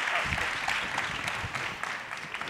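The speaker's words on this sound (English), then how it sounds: "So please give her a round of applause." Audience applause at a sustainable development conference panel, greeting a panelist who is a senior advisor; steady dense clapping from a room of people, sustained and even throughout with a faint voice underneath.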